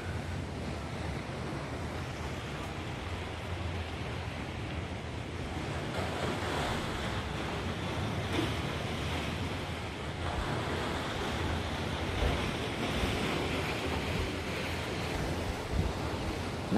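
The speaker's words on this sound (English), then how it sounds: "So you just hear the crashing waves all night long if you leave your balcony door open." Ocean surf breaking on a beach below a balcony at night, a steady continuous roar of crashing waves with wind rumble, moderately loud and unbroken, with no voices.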